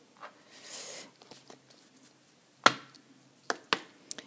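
A deck of Lenormand cards is cut on a quiet table, making a soft shuffle followed by a few crisp, sharp card slaps spaced about a second apart, close and faint.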